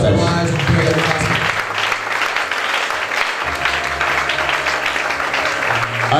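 A church congregation applauding steadily and loudly throughout, dense continuous clapping with crowd noise and some voices mixed in, and a low sustained musical tone underneath.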